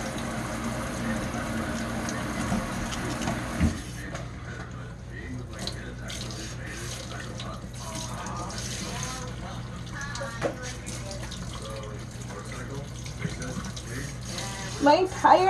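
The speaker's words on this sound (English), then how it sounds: "can you just put water in here" Tap water runs steadily into a sink while hair dye is rinsed out, a continuous splashing flow lasting throughout, with people talking over it nearby.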